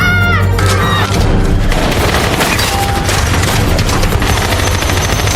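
Heavy gunfire erupts in a spy action film shootout, loud continuous bursts and booms layered with a dense score and effects, with no pause throughout.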